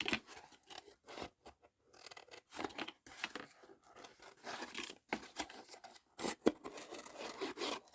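Scissors make quick rough cuts around an image printed on card, a run of irregular snipping and rasping crunches in close bursts with brief pauses, no talking.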